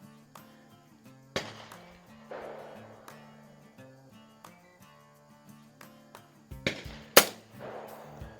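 Sharp single shots from a Walther LGR single-stroke pneumatic .177 match air rifle firing pellets, several crisp cracks spaced seconds apart, with steady background music underneath.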